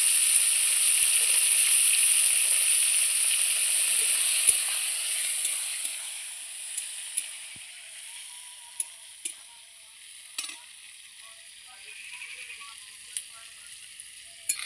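Sliced onions hit hot oil with whole garam masala while cooking goat meat kosha, giving a loud, steady sizzle that slowly settles, with occasional scrapes and knocks of stirring.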